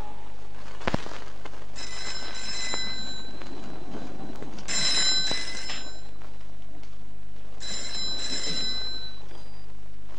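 An old telephone in a 1984 Indian film rings in three separate bursts of bright electric bell tone, each about a second long, clear and fairly loud against a quiet room.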